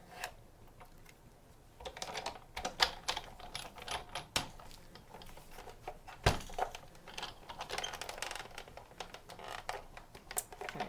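A Big Shot die-cutting machine cranks a medium-sized paper heart through its plates, giving a run of close, irregular clicks and snaps with a few sharper knocks and no talking.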